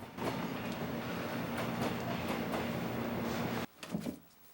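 A train pulls away from a railway station platform in a film scene, a steady rumbling wash of wheels and carriage noise with faint clanks that cuts off abruptly, leaving a few soft knocks in quiet.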